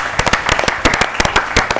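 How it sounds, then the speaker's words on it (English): Audience at a national school quiz competition applauding, a dense burst of many hands clapping close and loud throughout. "Let's clap for them."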